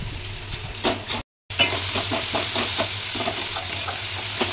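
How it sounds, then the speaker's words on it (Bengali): Spice paste for a bhetki fish kalia being fried and stirred in oil in a pan, a loud, continuous sizzle with regular scraping strokes, broken by one brief gap and no talking. "তেল বেড়েছে, মশলা ভালো করে কষানো হয়ে গেছে।"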